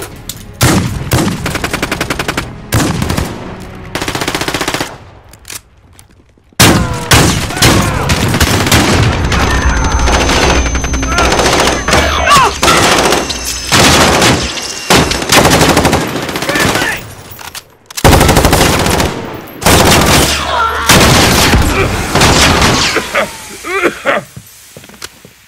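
Gunfire in a Call of Duty Modern Warfare team deathmatch: loud, rapid automatic bursts and single shots come in repeated clusters, broken by brief pauses.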